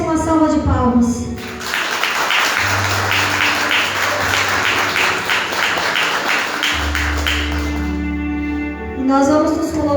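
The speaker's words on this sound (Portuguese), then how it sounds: "A palavra de Deus merece uma salva de palmas." A church congregation at an evening worship service breaks into rhythmic clapping for several seconds over a low sustained keyboard tone, with a voice speaking before and after.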